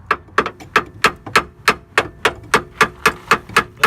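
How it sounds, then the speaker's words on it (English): A hammer taps down a pinch weld bolt on a 2009-2012 Ford Escape 2.5 during front wheel bearing work, about fifteen sharp, evenly spaced metallic taps, close and fairly loud. "I'm just tapping it down with a hammer just to get it down a little bit"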